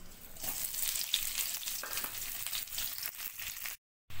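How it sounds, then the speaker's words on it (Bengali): Dense, hissing sizzle of onions frying in oil, close by and continuous, with light stirring noises, cutting off abruptly near the end. "পেঁয়াজগুলো ভেজে নেব"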